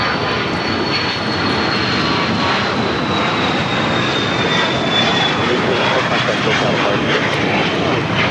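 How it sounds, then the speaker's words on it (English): A Dassault Falcon 900 EX business jet roars loudly and continuously past at LAX, its engine noise filling the whole stretch with a steady broadband rush and a thin high whine. "That is the Dassault Falcon 900 EX."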